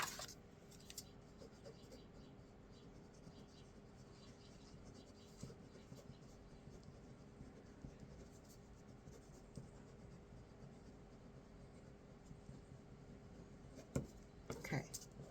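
Pen scratching steadily across paper while notes are written, a soft continuous scribble close by with small taps and pauses, under a quiet room hiss.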